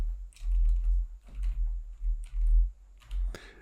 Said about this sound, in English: now I can just start typing right here